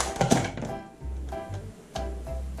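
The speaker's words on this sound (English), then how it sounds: "Wow, this is a realistic Nerf gun." A toy Nerf rifle fires foam darts: three or four short, close thunks and clicks spaced about half a second to a second apart, with no talk over them.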